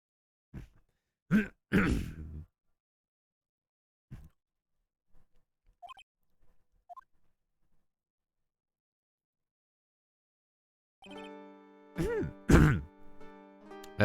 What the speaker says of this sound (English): Good time to clear my throat, too.